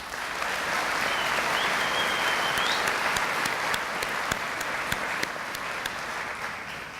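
Long, steady applause from a large audience at a spring college commencement ceremony, a dense even wash of clapping lasting several seconds with a few louder individual claps near the front, no speech over it.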